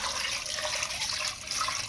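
Water pours steadily into a pot of chicken shami kabab mixture, about 1.5 litres going in as a continuous splashing, gushing stream, close and fairly quiet, with no voices.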